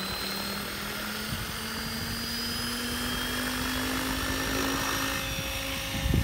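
A Mikado radio-controlled helicopter's rotor spins at around 1600 RPM, giving a steady, nearby whirring drone with a thin high whine, unbroken for several seconds before a brief rise near the end.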